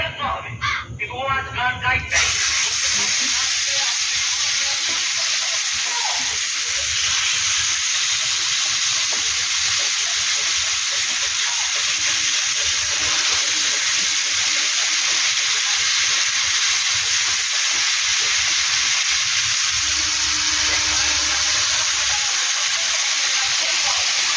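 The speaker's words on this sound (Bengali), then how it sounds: "এবার এই তেলের মধ্যে আমি একটা চিকেন দিয়ে দেবো" Chicken dropped into hot oil in a pan sizzles loudly and steadily, a dense close hiss that starts after a brief clatter and runs unbroken, with a voice faintly underneath.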